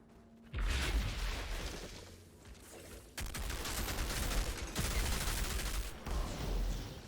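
Scrapnel cluster grenade explosions from the video game Outriders Worldslayer, a dense, loud barrage of crackling blasts and booms that arrives in several bursts, close and continuous, with no talk over it.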